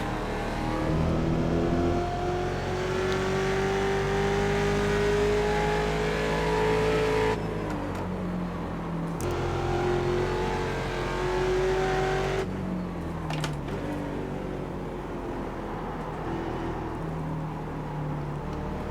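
A Mustang race car on the Mid-Ohio circuit in iRacing revs hard through climbing engine notes, with a couple of sharp gear changes cutting the pitch before it rises again, loud and close throughout.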